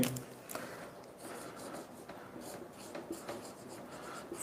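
Marker or chalk writing an enzyme name on a classroom board, quiet scratchy strokes in an irregular rhythm, faint and close without talk.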